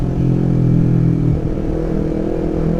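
A four-cylinder motorcycle, a Kawasaki ZX-25R, runs through an aftermarket exhaust, a loud, close, buzzing engine note that holds steady and then shifts slightly in pitch partway through, with no talking.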